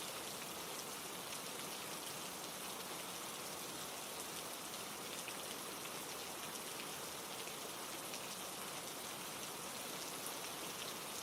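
Steady rain falls continuously across the whole stretch, a dense even hiss of drops on surfaces with no gaps, no voices and no other sounds.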